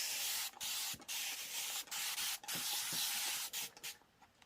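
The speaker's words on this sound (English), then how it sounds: "Then I'm going to spray some water on it." Repeated short bursts of a water spray hiss onto quilting fabric being pressed, with brief gaps between them, steady and close, with no voices.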